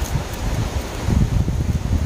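Strong wind gusting outdoors during mushroom picking in France, a loud rough low roar that swells and buffets the microphone, with no voices.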